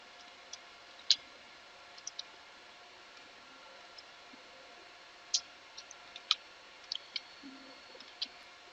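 Faint, sparse keystrokes on a computer keyboard as a command is typed into a CentOS Web Panel server terminal, scattered single clicks with a few quick bursts over a steady low hiss, no talk.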